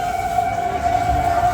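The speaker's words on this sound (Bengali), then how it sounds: "ট্রেন আসছে যাচ্ছে" A passing train sounds its horn in one loud, steady, sustained tone that holds unbroken throughout.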